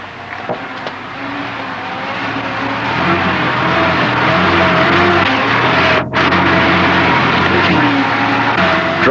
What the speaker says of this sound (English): Select four-wheel drive low range, use the throttle sparingly, and allow the vehicle to creep over the rocks under the combined force of engine and gearbox.